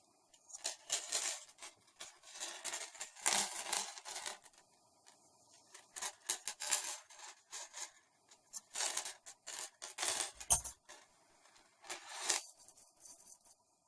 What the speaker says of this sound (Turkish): İpimi her iki tarafa da yedirdikten sonra kalan kısımlarını kesiyorum.